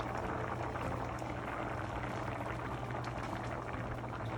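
A pot of Jamaican stewed peas with pigtail and beef bubbles at a steady, continuous boil, with dense gurgling and popping close by and no talking.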